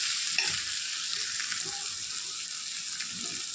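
Ingredients for fried rice sizzling steadily in hot oil while being stirred and mixed, a continuous bright frying hiss with soft scraping of the spoon underneath, close and fairly loud throughout.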